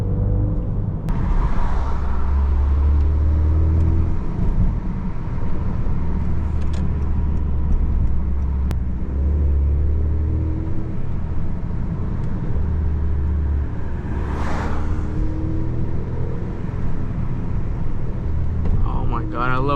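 Car engine with a loud, constant low rumble and revving surges throughout, heard from inside the vehicle, with a voice talking over it.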